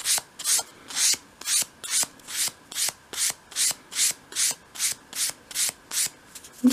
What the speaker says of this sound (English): hold the sandpaper at a 45 degree angle and just sweep it along that top